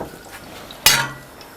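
A small frying pan is handled and set down, giving one sharp metallic clank with a short ringing tail, close by and otherwise quiet.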